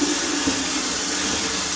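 Cold water sprays steadily to rinse detritus from a blackworm culture substrate, a continuous close hiss of running water with no talking.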